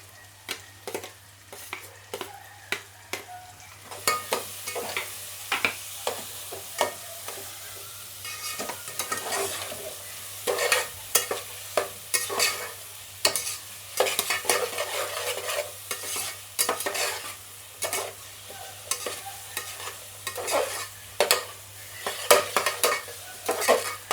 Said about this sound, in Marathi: आता का टाकायचं आहे बारीक कापलेला कांदा आणि हे पण आय थिंक गोल्डन ब्राऊन होईपर्यंत मिक्स करून घ्यायचं आहे.